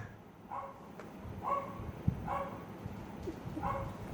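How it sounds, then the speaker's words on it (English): A dog barks repeatedly at a distance, about four evenly spaced barks, faint against a low rumbling background. "Not sure you can hear my dog barking in the background"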